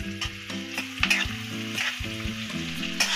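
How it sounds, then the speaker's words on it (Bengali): Chopped onion fries in a pan for Punjabi-style spinach, a steady soft sizzle with stirring clatters and scrapes, with melodic background music playing throughout. "পেঁয়াজ কুচিটা দিলাম যতক্ষণ না লাল হচ্ছে, একটু বাদামি করে ফ্রাই করে নেব।"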